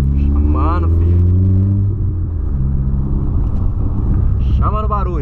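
A 2022 Volkswagen Polo Sedan engine runs with a loud, steady low rumble and humming drone close by, while someone talks over it.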